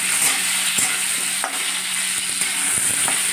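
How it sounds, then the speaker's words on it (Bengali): Black mustard seeds and raw mango pieces sizzle loudly in a hot pan, a continuous close frying hiss broken by a few soft stirring knocks. "দিয়ে আমি এবার আম আমকুচিগুলো দিয়ে একটু নাড়াচাড়া করে নেব"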